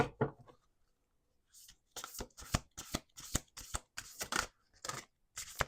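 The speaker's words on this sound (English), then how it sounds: "Let's do 2 more shuffles." Playing cards being shuffled close up, a series of quick riffling bursts in steady rhythm after a brief quiet start.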